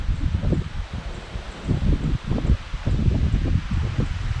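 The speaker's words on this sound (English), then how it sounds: "Here's the wind." Gusty wind rustles tree leaves at East Twin Lake Campground, coming in close, uneven surges with low, rumbling buffets on the microphone and no voices.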